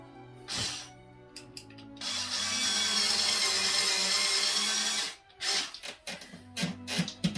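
Power driver whirring steadily for a few seconds as a screw is driven to fix a valance above a window, preceded and followed by short clicks and handling knocks close by.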